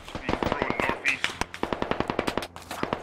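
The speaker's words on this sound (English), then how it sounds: "Taking PKP fire." Sustained PKP machine gun fire during a firefight in the video game Squad, with rapid bursts of shots close by in a steady rhythm and voices talking over part of it.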